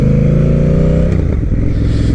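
Honda Rebel 1100 motorcycle fitted with a TBR exhaust and silencer, revving loud and close: a steady deep idle swells into a rev that drops back with slight popping.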